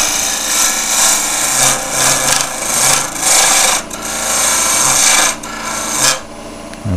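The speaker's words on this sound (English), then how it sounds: "So I'm using a 10 mil lip and spur bit just to put the hole down the center." A 10 mm lip and spur bit drills down the center of a log on a lathe for a turned vase, giving a steady rasping, grinding tool noise with uneven surges and brief dips, loud and close, with no talk.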